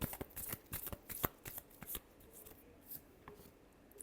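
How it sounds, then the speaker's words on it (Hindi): Tarot cards being shuffled in the hands: a run of quick, crisp riffling and slapping bursts that come in uneven clusters, close and fairly loud, with no voices. "Last shuffle."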